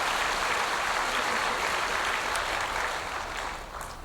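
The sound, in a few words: church congregation applauding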